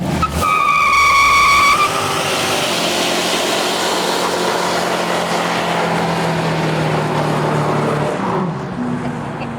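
A 1970 Dick Harrell 454 Camaro muscle car engine roars loudly, then settles into a strong, steady rumble as it keeps running, close by.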